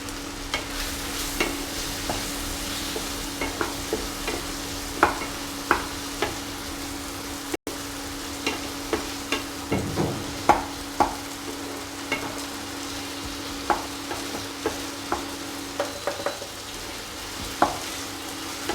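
Prawns roasting in ghee with turmeric powder and a dry Guntur chili sizzle steadily in a pan, while a spoon stirs and scrapes at irregular intervals, close and moderately loud.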